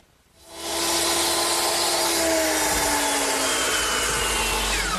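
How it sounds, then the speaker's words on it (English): Power saw cutting through the top of a 2x4 wooden stud for a sandbox canopy frame, starting after a brief quiet moment and then running loud and steady to the end, with no talking. "now that completes the cut at the top of the 2x4 standards"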